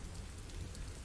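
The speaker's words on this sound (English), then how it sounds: "Just waiting out the rain." Steady rain falls, an even dense hiss with a low rumble beneath, continuous and unbroken throughout.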